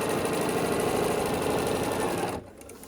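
A sewing machine stitches binding onto the front of a peppermint tree skirt, running in a steady, close, continuous whir that stops abruptly just before the end.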